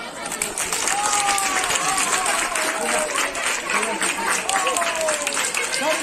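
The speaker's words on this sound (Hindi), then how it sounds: "ताली लगाओ।" A school crowd at a prize distribution applauds steadily for several seconds, dense clapping filling the space while a voice talks over it.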